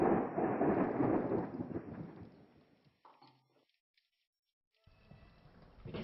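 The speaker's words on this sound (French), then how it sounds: "Tu n'as rien entendu? Le tonnerre?" A deep rolling rumble of thunder swells loud at the start and fades away over a few seconds, then silence, before a faint low rumble returns near the end.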